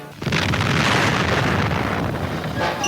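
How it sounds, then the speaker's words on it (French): A French atomic bomb test detonation in the Sahara in 1960, a sustained roaring blast with a broad rumbling wash that swells quickly and holds loud for about three seconds, slightly tapering toward the end. "À 7h du matin, la France faisait éclater sa bombe atomique."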